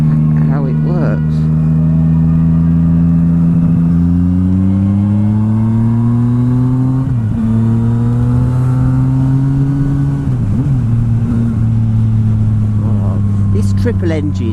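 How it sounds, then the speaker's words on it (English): A 2016 Yamaha XSR900 with a three-cylinder engine hums steadily while riding, its drone rising and dipping slightly with throttle changes and staying loud and close throughout. "Triple engine is so beautiful."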